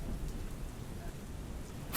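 Steady rain falls with a low, rumbling thunder beneath it, a continuous hiss and deep roll throughout, with a sharp burst at the very end.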